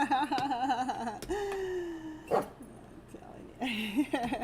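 A dog whimpers and yips in high, wavering whines with short breaks between, close by, mixed with a sharp bark-like burst; a person also speaks briefly.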